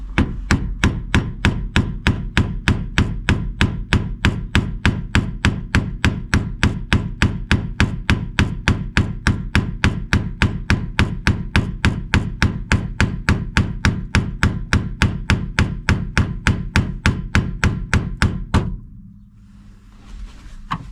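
Steady, rapid hammer blows on metal, dozens of sharp strikes in an even rhythm, close and loud, ending abruptly near the end.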